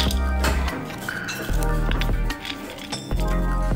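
Bread halwa being scooped from a pan onto a plate, with a series of close metallic clinks and scrapes of spoon against cookware, a few soft squishes, and a low steady hum underneath.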